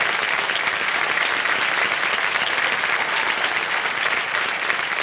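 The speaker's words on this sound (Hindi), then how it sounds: "जोरदार तालियां बज जाए इनके लिए।" A studio audience at the Kaun Banega Crorepati quiz show breaks into loud, sustained applause, a dense steady clapping that fills the whole stretch with no speech over it.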